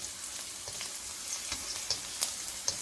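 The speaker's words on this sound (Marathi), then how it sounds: "आणि थोडं हलकासा आपला गार्लिक लसूण हा फ्राय झाला, हलकासा लाल झाला की आपण याला कढीपत्त्याची फोडणी देणार" Garlic and curry leaves tempering in hot oil for Chicken 65, a steady close sizzle with a few sharper crackles and pops toward the end, no voices.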